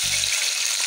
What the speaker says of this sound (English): Put the pot on fire and add the palm oil. Let it be very hot. Then we shall add our onions that has been chopped.